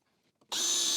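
A power drill starts abruptly after a faint click and whines loudly and steadily close by, driving screws to fix a dowel cutter to a wooden workbench.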